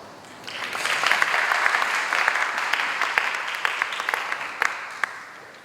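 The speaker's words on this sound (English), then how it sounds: "Please give a round of applause." At the Hult Prize awards, an audience's applause swells up after a quiet start and holds as a dense, even patter of clapping, with a few sharper claps standing out before it fades slightly.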